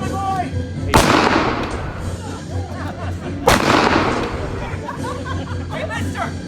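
Two loud, sharp gunshot sound effects crack about two and a half seconds apart during a Wild West stunt show, ringing out over crowd chatter and actors' voices.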